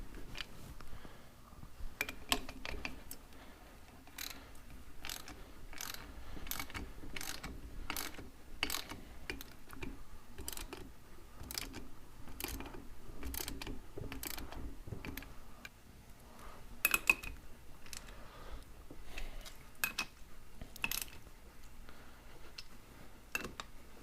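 A ratchet clicks steadily in short, evenly spaced bursts as bolts are tightened to draw a Ford 9-inch ring gear onto its carrier, close-up and quiet, with brief pauses between strokes.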